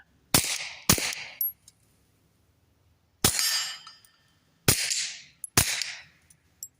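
Loud rifle shots with supersonic ammunition through an AAC Element 3 suppressor, a sharp supersonic crack, fired in spaced pairs, each followed by a short ringing tail.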